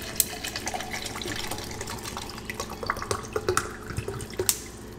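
Water running and dripping from the dispenser built into a refrigerator in a newly moved-into kitchen, with a steady trickle and small splashes and drips at close range.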